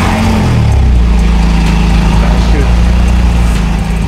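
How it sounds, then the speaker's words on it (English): A Porsche Cayman GT4 Clubsport engine fires up and settles into a loud, close, rumbling idle with a slight rev, dominating the whole short stretch. "Best sounding Porsche I've ever heard."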